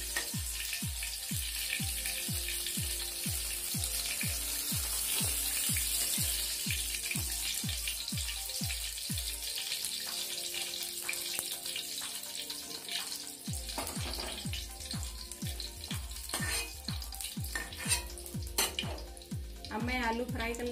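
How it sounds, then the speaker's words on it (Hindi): Potatoes frying in hot oil for an aloo parwal sabji, a steady dense sizzle throughout with a regular rhythmic tapping and clinking of utensils in the pan, pausing briefly midway before resuming. "अब मैं आलू फ्राई कर लेती हूँ।"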